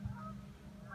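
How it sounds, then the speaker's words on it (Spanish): Waterfowl honking at a lake in Sudbury, two brief nasal calls at the start and end, moderately distant over a low ambient rumble. "este es un lago, escuchamos patos"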